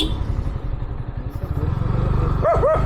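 A dog barks twice in quick succession near the end, sharp and close, over a loud rumbling motorcycle engine that fills the scene.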